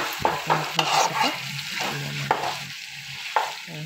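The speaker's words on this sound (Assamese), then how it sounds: "অকণমান দেৰি ভাজিম।" Meat fries in a very old wok, sizzling steadily while a utensil scrapes and stirs in repeated sharp strokes, close and fairly loud with no voices.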